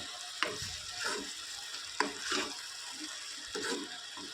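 Masala for matar kurma frying in oil that has separated, with steady sizzling and a few sharp scraping stir strokes at intervals, close and loud, no voices.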